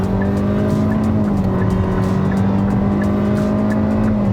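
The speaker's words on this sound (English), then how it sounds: "if I put my foot down right now," A new Hyundai Creta's engine drones loudly and steadily with a smooth, rising hum under hard acceleration, heard from inside the cabin with no talking.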